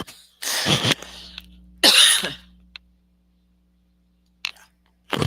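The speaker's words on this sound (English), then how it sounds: "I got a cough." Two loud coughs close to the mic with a throat-clearing rasp between them, then quiet, followed by a short sniff and a brief throaty noise.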